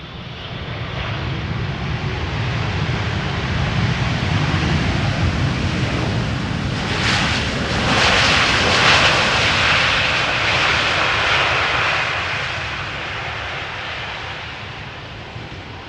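Airliners arriving at Amsterdam Schiphol Airport in a gusty southwesterly crosswind, a loud continuous jet roar with wind that swells to a peak near the middle and then slowly fades.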